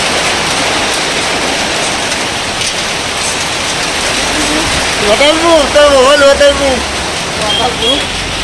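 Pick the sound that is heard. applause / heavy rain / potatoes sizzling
heavy rain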